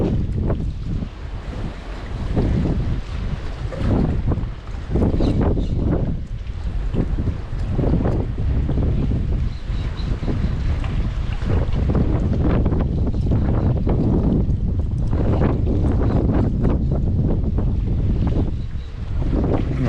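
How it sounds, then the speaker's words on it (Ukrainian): Strong, gusting wind buffets the microphone continuously while fishing from rocks in Spain, a loud roaring rumble with splashing water mixed in. "реально вітер дуже сильний, навіть он, блін, вудку гне"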